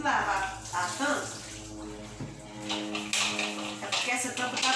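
Running tap water splashes over a pot lid being rinsed at a home kitchen sink, a steady close wash that shifts in tone as the lid moves under the stream.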